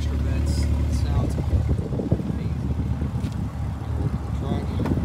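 A 2024 Chevrolet Corvette Stingray 2LT with quad exhaust produces a deep, steady, close engine rumble that stays loud throughout without any clear breaks.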